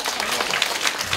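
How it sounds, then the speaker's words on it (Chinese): Audience applause welcoming performers on stage at a church Christmas evening show, a dense, loud, continuous wash of many hands clapping close by. "我们再次用热烈的掌声欢迎我们台上的演员"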